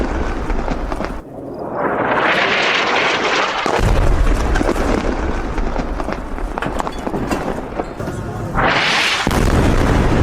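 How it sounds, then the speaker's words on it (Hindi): Air strike explosions in central Gaza, several heavy blasts and booming rumbles from a distance, loud and broadband with rising roars and debris-like crackle, no voices over them. "भीषण धमाका है सेंट्रल गाजा में।"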